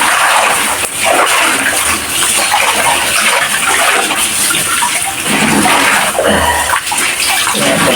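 Tap water runs steadily while a blanket is hand-washed, a continuous splashing gush with fluctuating intensity and no voices.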